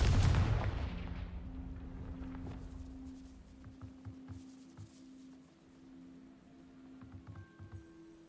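A loud blast from the Confringo fire spell in the Hogwarts Legacy game bursts at the start, then decays into fainter thuds, tones and footstep-like ambience.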